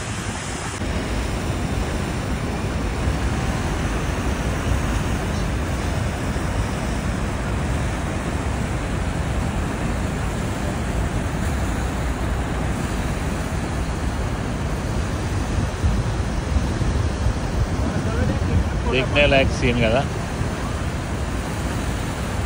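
Niagara Falls, where the Canadian and American falls meet and pour into one river, gives off a broad, steady roar heard at a distance, with wind buffeting the microphone and a brief spoken remark near the end.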